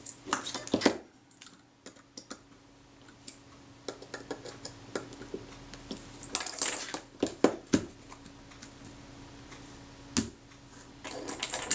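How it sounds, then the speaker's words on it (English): A small screwdriver tightens four screws on a Retina IIIc camera, making close, faint metallic ticks and clicks at an irregular pace with a few louder clacks against a quiet background. "get the 4 screws tightened up"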